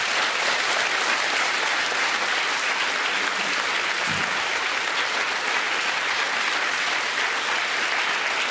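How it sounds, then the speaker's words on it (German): A studio audience at a Swiss TV cooking show finale claps steadily and densely, a loud, even wash of applause that carries on without a break. "Das ist euer Applaus."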